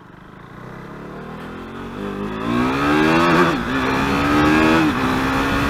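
A KTM RC 390 sport motorcycle engine revs up and climbs in pitch while riding in city traffic, growing louder and close by, with a steady throaty drone as it accelerates.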